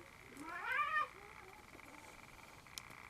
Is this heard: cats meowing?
yes